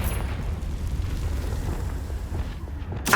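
Fire spell blast in the Hogwarts Legacy video game, a sustained rumbling explosion that roars steadily for several seconds, with a sharp crackling burst breaking in at the very end, no talking.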